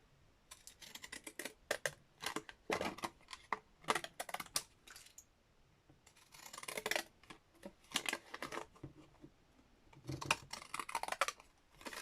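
Scissors cut out paper in repeated bursts of crisp snipping and rustling, coming in quick clusters with short pauses between them, close and fairly quiet.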